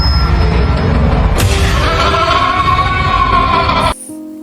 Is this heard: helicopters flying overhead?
no